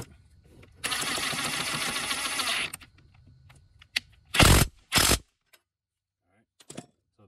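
A screw is driven in while a new A/C condenser is installed on a 7th-gen Nissan Maxima. A loud, close power-tool whir lasts about two seconds, followed by a couple of sharp knocks and quiet pauses.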